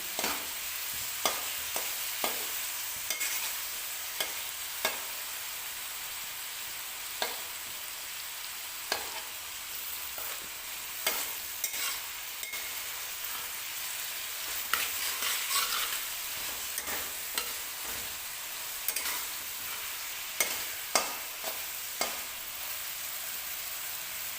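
A spoon stirs and scrapes masala in hot oil for Punjabi-style carrot pickle, with steady sizzling frying underneath and regular clinks against the pan, close and continuous, no talk.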